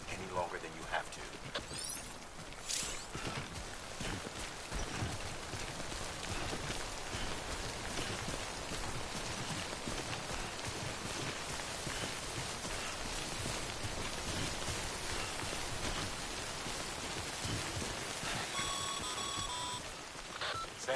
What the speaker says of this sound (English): remember that prolonged exposure to timefall damages cargo containers. Don't stay out in the rain any longer than you have to.